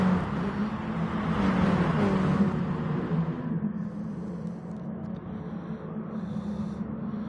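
Mini Cooper race cars in a Mini Cooper Cup race drive around a circuit, their engines a steady, fairly faint broadband roar that swells and then eases slightly as they pass.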